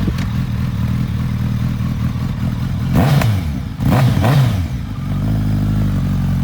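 A used 2006 Suzuki Hayabusa GSX1300R hypersport motorcycle idles, then its engine is revved sharply twice in quick bursts before settling back into a steady close idle.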